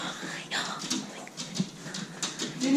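A puppy whimpers in short, faint high cries scattered through a room, with soft patter and movement noises and people talking nearby.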